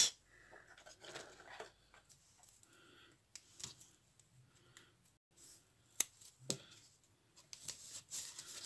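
Scissors snip through lace for a handmade shabby-style card, a series of close, crisp cuts with short pauses between them and no talking.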